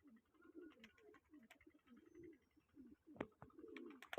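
Pigeons coo in repeated soft, throaty phrases, fairly close, mixed with scattered clicks and flutters.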